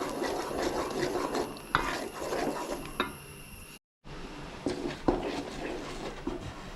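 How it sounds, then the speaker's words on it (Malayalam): Jackfruit halwa being stirred continuously in a pan, a scraping, rubbing sound with occasional sharper knocks of the spoon against the pan, steady and close. "നമ്മളിങ്ങനെ കൈ വിടാതെ ഇങ്ങനെ ഇളക്കിക്കൊണ്ടേയിരിക്കണം"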